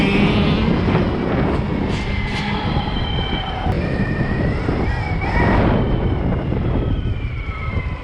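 A homemade six-speed electric dirt bike runs hard under throttle, its loud motor whine rising and shifting pitch over continuous wind rush and rumble, with a voice briefly audible over the ride.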